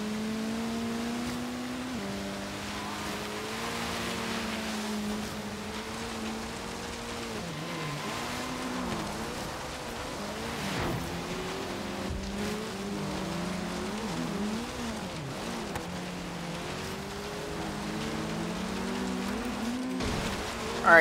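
A racing car engine drones continuously through a race in Forza Horizon 3, its pitch rising and falling with shifts and corners, accompanied by a steady hiss like rain or road noise.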